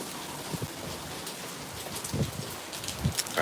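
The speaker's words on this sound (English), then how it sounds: "All right, back into the rain." Heavy rain pours steadily on a Tokyo street in Ikebukuro, a dense hiss with occasional louder drips and splashes close by.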